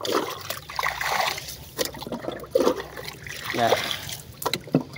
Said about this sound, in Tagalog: Galimas naman ako dito ng tubig. Sa maliit na drainage.